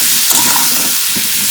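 Kohlrabi and potato pieces, seasoned with salt and turmeric, fry loudly in a pan, giving a close, continuous sizzle broken by soft scraping as they are stirred.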